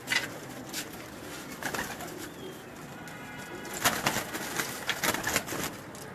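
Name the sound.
pigeons cooing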